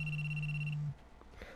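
A single steady electronic telephone ring tone from the dating game LoveR Kiss, loud and close, sustained for most of a second before cutting off into quiet game room tone. No one speaks.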